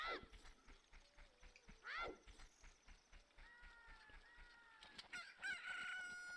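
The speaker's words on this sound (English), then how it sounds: "Oh, a chicken." A chicken clucks and crows in Zelda: Ocarina of Time, sharp bird calls over steady clip-clopping footsteps, with a few tonal game chimes near the end.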